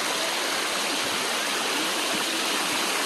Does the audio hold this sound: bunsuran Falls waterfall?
yes